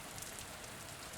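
Steady rain falling and pattering on surfaces, a dense continuous hiss with no pauses, close and even in level.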